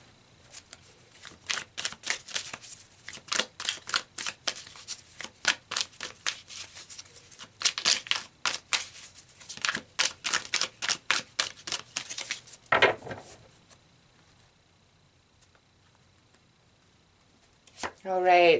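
Tarot cards are shuffled in a quick run of crisp riffling taps and flicks, close and fairly soft, with a brief pause before a final rustle.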